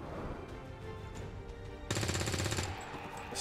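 Gunfire in the video game XCOM 2, a sudden burst of rapid automatic shots lasting under a second over quiet game ambience.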